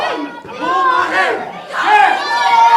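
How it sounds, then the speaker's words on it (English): A packed crowd at a championship wrestling show roars and yells loudly in continuous waves, with shouting voices rising over the din. "Conley's trying to quiet the crowd, but to no avail."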